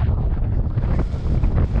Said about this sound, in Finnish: Tää on mukavaa, että tänään on tuullut koko ajan.